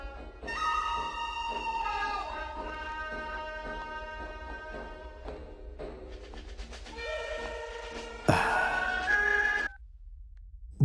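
A telephone rings with an incoming call, giving a sustained electronic melody of tonal notes at moderate, fairly quiet level, then a brief sharp burst of sound near the end.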